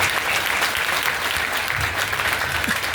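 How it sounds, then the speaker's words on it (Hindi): Loud, dense audience applause fills a hall, a continuous patter of many hands clapping at an event, steady for the whole few seconds. "मैं चाहूंगा गुरुदेव फार्म इंद्रोज जी के लिए एक बहुत जोरदार शानदार ताली हो।"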